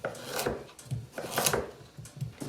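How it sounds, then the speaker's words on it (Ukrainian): A knife chops carrots, potatoes and onion on a cutting board for vegetable cabbage cutlets, giving close, irregular thuds and scraping strokes with brief gaps between cuts. "Саме перше, що нам потрібно зробити, це порізати наші овочі"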